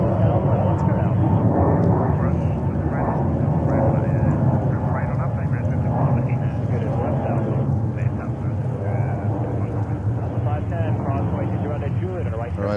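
Roaring jet rumble from a Delta Airbus A321neo at New York JFK airport, a broad steady engine roar with wind buffeting, loud throughout and overlaid by a talking voice.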